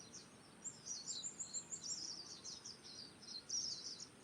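Zebra doves give soft, faint calls in a quiet natural setting, a series of short high chirping notes repeated irregularly over a low steady background hum.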